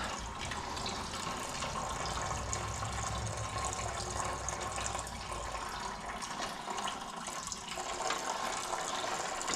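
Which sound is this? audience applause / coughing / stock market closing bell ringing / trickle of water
trickle of water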